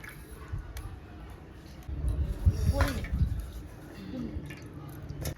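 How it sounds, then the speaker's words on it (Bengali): Raw mutton pieces washed by hand in water before going into a curry make soft, close squelches, wet slaps and drips, rising in a busier middle stretch. "মাংস রান্না করার জন্য এগুলো ধুচ্ছি মাংসগুলো।"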